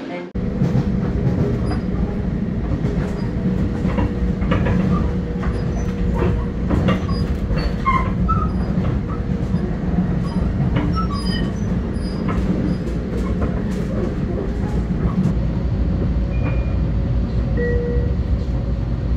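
Long Island Rail Road train, a steady low rumble of a car in motion with faint wheel clicks and occasional squeals throughout, and voices talking in the background.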